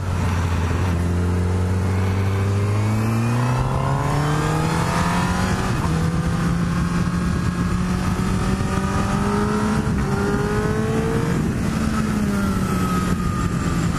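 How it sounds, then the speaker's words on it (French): A 2017 Honda CBR1000RR SP sport motorcycle engine with stock exhaust revs up steadily, pitch climbing and holding in a sustained high-revving roar, with a brief dip and rise again near the end. "L'échappement d'origine fait déjà un super bruit et la boîte à air aussi."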